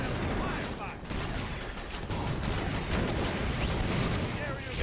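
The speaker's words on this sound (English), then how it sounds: "And missiles just took them out." Missiles burst in the Battalion Wars video game amid a continuous, dense roar of battle, with rumbling blasts and rapid gunfire running throughout at high volume.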